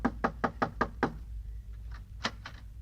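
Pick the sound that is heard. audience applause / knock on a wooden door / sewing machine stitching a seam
knock on a wooden door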